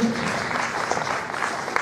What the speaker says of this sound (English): ladies and gentlemen, I please give a round of applause to Miss Buddha Petros